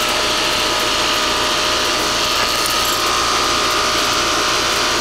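A new Trane XL15i 4-ton heat pump running in cool mode gives off a loud, steady mechanical whir with a continuous rattling drone, close and unbroken throughout.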